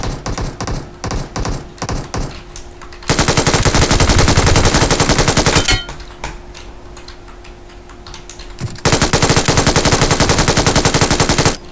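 Rapid automatic gunfire in PUBG Mobile, loud and close: sustained bursts with short gaps, then two long continuous volleys separated by a quieter stretch.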